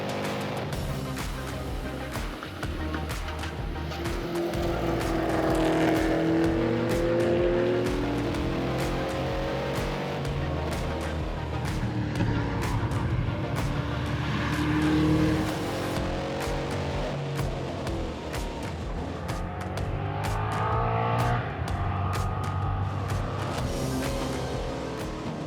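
A V8 Masters race car's engine roars steadily throughout on a race track, rising and falling in pitch as it accelerates and shifts through gears, loud and close.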